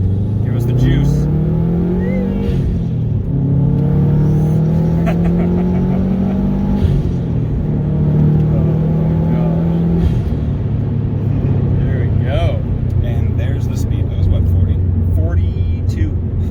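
A Subaru STI accelerates hard from a launch, its engine note climbing through loud revving pulls with gear changes, close and dominant throughout.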